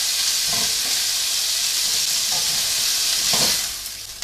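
Browned steak pie meat sizzles steadily in a hot pan, a loud continuous hiss with a few soft scraping stirs and the sizzle easing off at the end.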